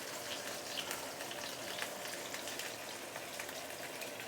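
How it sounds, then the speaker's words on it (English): A thick fish cutlet pan frying in hot oil on a hot, non-stick-free pan, giving a steady, dense sizzle and crackle with scattered spatter pops, continuous and close throughout. "So let's also fry this side for another about approximately 2 minutes."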